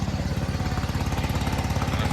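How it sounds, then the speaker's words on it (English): A tractor engine running near a race circuit at Donington, a steady loud chugging drone with a fast regular pulse, heard close and continuous with no talking. "and a fucking tractor."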